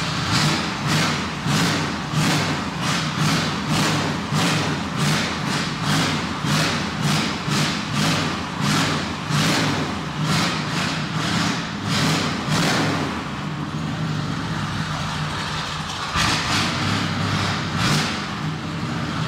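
A 1988 Chevrolet Silverado single-cab short-box pickup engine revved repeatedly in a steady, pulsing rhythm, loud and close, easing into a rougher idle near the end with a few sharper bursts.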